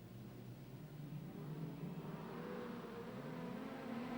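Super Street race cars, four Cortinas, a Falcon and a Commodore, rumble around Gympie Speedway in close formation, a steady distant engine drone with rising and falling pitch that swells slightly as the pack rolls by.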